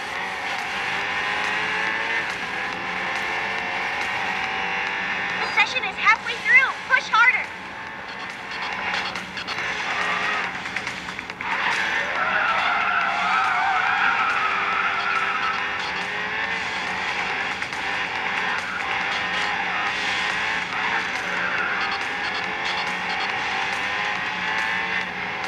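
Racing cars roar through a heavy mobile racing game, with one car overtaking others as engine whine rises and falls continuously and a short burst of tire squeals and skidding early on, loud and close throughout.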